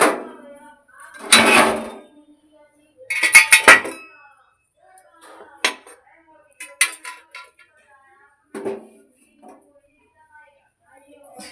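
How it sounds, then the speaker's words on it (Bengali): Oil bottles being put away and arranged in a home kitchen: several separate bursts of glass and plastic clinks and knocks with quiet pauses between, close by, and no talking. "তেলগুলো সব এখন একটু একটু গোছগাছ করে রেখে দিচ্ছি"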